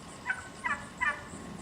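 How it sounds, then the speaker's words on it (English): Wild turkeys gobble in a residential neighborhood, three short rattling bursts spaced about a third of a second apart over a faint steady outdoor hum, with no one speaking. "Turkeys in the neighborhood."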